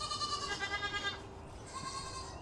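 Goats bleat in a series of wavering, nasal cries, one drawn-out call pulsing for about a second, then a brief lull before a second, fainter bleat follows.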